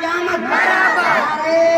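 A crowd at an Eid Milad un Nabi gathering in Jangipur Khurd, Jaunpur, roars a loud, sustained unison chant in reply to a religious slogan, swelling over the whole moment.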